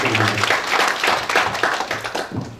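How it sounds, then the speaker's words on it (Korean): An audience claps at a Busan community council gathering as the next speaker is welcomed, brisk uneven applause close by with a voice partly mixed in. "여러분 큰 박수와 함께 모시도록 하겠습니다"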